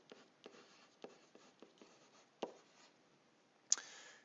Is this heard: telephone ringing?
no